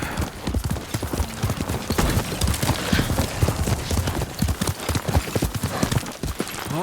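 A horse's hooves clip-clop in a steady walking rhythm in the video game Ghost of Tsushima, close and distinct, with a brief neigh partway through.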